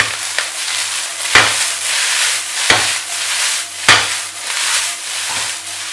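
Chicken fried rice with garlic paste, chili powder, pepper, garam masala, soy sauce and salt sizzling in a roadside street-food pan, a steady loud hiss broken by three sharp scraping stirs at regular intervals.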